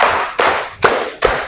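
Classroom group clapping in a counted rhythm at a vocational high school, sharp claps landing in a steady sequence of beats with a low thud under each, close and fairly loud.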